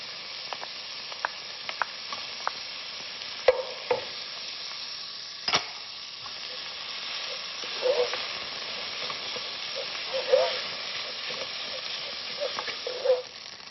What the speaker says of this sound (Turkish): Kıyma böyle kum gibi olana kadar kavuruyorum